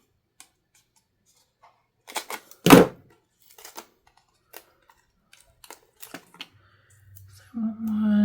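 Scissors snip paper for a handmade card: a loud close cut followed by scattered lighter clicks and small handling noises, with a brief low hum near the end.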